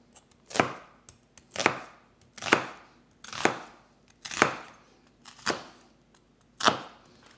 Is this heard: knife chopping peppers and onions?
yes